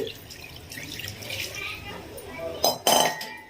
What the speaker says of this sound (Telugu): ఇప్పుడు ఇందులోకి మనం సరిపడినంత వాటర్ వేసుకోవాలి